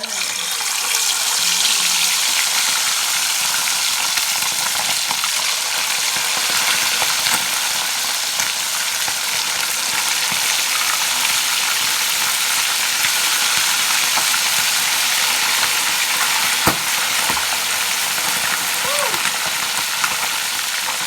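Chicken skin frying in hot oil for chicharon in a home kitchen: a loud, dense, hissing sizzle that holds steady and close throughout, broken by an occasional sharp tap.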